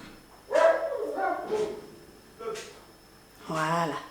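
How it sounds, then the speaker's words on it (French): The neighbour's female dog barks in four separate outbursts with short gaps between them. The barks are close and fairly loud, with some higher whimpering yips and no other sounds around them. "C'est la chienne d'à côté."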